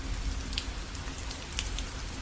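Steady rain falling as a story sound effect, a dense continuous patter of drops on a surface with occasional brighter splashes, moderately loud and alone.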